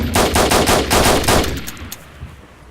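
A rapid burst of automatic gunfire in DayZ, about seven loud, close shots in quick rhythm, then a fading echo and a few scattered faint sounds.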